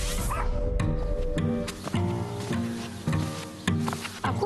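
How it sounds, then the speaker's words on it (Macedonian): Battery-powered toy dog giving a run of short, regular mechanical yips and barks, close and fairly loud, with brief whimpering tones between the barks and no speech over them. "Не сакам да ме види како шетам куче на батерии."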